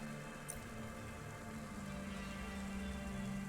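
Steady rain falling across a city street in the video game Cloudpunk, a constant hiss and patter with low background hum, even and unbroken, no talk.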